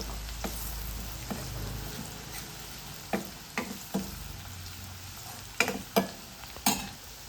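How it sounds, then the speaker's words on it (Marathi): Chopped onion fries in hot oil in a pan until crisp, giving a constant soft sizzle broken by sharp spoon scrapes and clinks that come more often toward the end. "कांदा आहे तो थोडासा जरा कुरकुरीत करायचा आहे"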